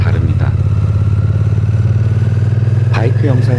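Royal Enfield Interceptor 650 twin-cylinder motorcycle engine running steadily while ridden, a loud, continuous low throbbing drone that holds level throughout, with a voice speaking briefly over it near the end.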